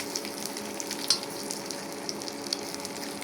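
Egg-dipped bread slices frying crisp in a pan, a steady soft sizzle with a few small pops and crackles, alone with no talk.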